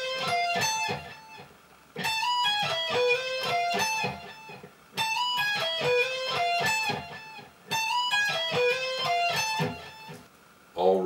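Electric guitar playing riff D of a metal song, four repeated phrases of fast picked notes, each about three seconds, with short gaps between them, loud and alone.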